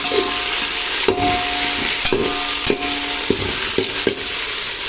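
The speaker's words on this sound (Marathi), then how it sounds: "ते देखील आता आपल्याला तेलामध्ये छान असं भाजून घ्यायचं." Sliced onions and large-cut tomatoes fry in oil in a big pot for chicken dum biryani, sizzling steadily and loudly while a spoon scrapes and knocks against the pot in irregular stirring strokes.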